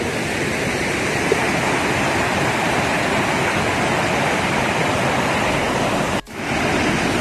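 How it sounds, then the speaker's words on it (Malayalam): A waterfall in Munnar roars in a dense, unbroken rush of falling water, loud and close, with a brief dip near the end and no voices. "നല്ലൊരു വാട്ടർഫോളാണ് ഇത്"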